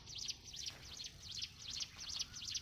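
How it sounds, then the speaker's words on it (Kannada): Birds perched on a pole near a flowering garden give a string of bright, repeated chirping calls, about six close, evenly spaced bursts over soft background hum. "ಬರ್ಡ್ಸ್ ಕೂಗ್ತಾ ಇದೆ ಪೋಲ್ ಮೇಲೆ ಕೂತ್ಕೊಂಡು"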